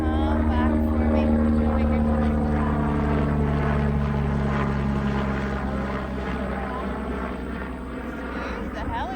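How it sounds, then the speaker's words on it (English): Helicopters pass overhead during an indoor prenatal Pilates class, a loud, steady rotor drone with a pulsing beat that slowly fades, while an instructor talks over it. "Excuse the helicopters."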